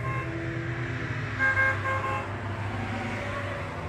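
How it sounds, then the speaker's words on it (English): A car horn honks from a vehicle driving down the street outside a church, sustained horn tones sounding over a steady low traffic rumble, moderately close. "somebody's just driving down the street just honking."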